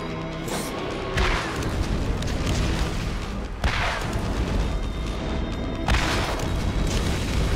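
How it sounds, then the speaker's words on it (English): Rocket launcher blasts boom repeatedly in the Borderlands shooter game, with loud, dense explosions spaced a couple of seconds apart over continuous rumbling combat noise. "the rocket launcher does a lot of damage"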